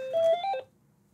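A phone gives off a short burst of electronic call tones indoors during a talk, a few quick beeps in succession lasting under a second, fairly clear, then quiet.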